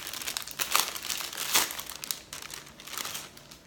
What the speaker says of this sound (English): So I'm gonna go ahead and take this out of the wrapping paper.